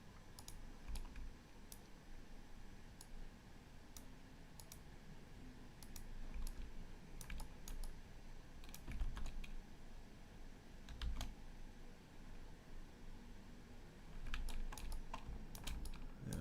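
Quiet, irregular typing on a computer keyboard, scattered key clicks in short bursts and pauses over a faint room hiss, heard close and soft with no talking.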